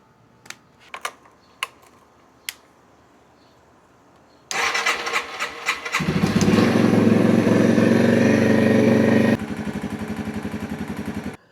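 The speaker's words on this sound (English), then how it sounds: "Fuel on and start it up." A Yamaha TW200 motorcycle, just back together after a valve clearance adjustment, gives a few sharp clicks, then its engine catches loudly, revs up and settles into a steady, slightly quieter idle.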